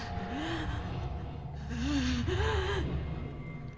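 Pained, gasping breaths from a horror character in the visual novel Spirit Hunter: NG, a few strained inhales and sighs rising and falling over a low droning game ambience, fairly close and moderately loud.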